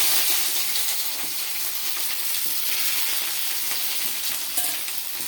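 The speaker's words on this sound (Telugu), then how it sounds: "ఇప్పుడు ఉల్లిపాయలు కరివేపాకు వేస్తున్నాను చూడండి" Onions and curry leaves frying in hot tempering oil after dried red chillies and tempering spices, with a loud, steady, close sizzle and occasional stirring, without speech.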